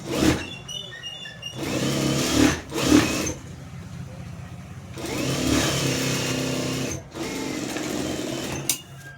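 A sewing machine stitches fabric in several loud, buzzing runs of varying length, separated by short pauses, with the motor whirring close by.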